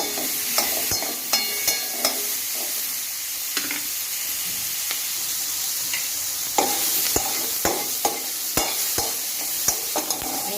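Matar paneer curry roasting in a pan and stirred: a steady hissing sizzle with regular, sharp clicks and scrapes of the spoon recurring throughout.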